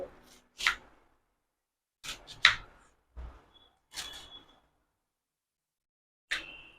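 A knife chopping cabbage on a cutting board for snack fritters: a handful of sharp, separate thuds and crisp slicing cuts with pauses between them, close and clear with no talk.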